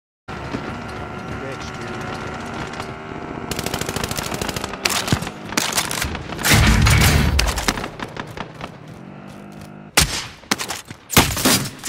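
Rapid automatic gunfire and bursts from a firefight in Call of Duty: Warzone, loud and dense with heavy booms mixed in, under urgent shouted voices.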